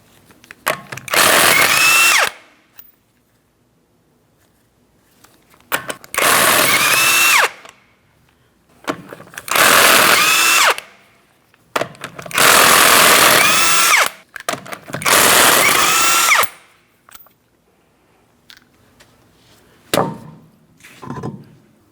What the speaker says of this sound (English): we're going to remove all 5 of our 19mm lug nuts and remove the wheel